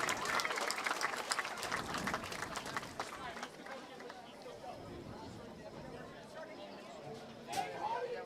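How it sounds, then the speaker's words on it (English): Crowd applause at a high school football game between Ward Melville and Longwood before the opening kickoff, a broad wash of clapping and cheering that is loudest at the start and then eases into a steady murmur, with a brief swell near the end. "Let's have a warm Patriot welcome and a round of applause."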